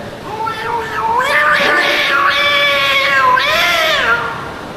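Someone mimics two cats fighting, with rising, wailing yowls and snarling cries that overlap and swell, loud and close.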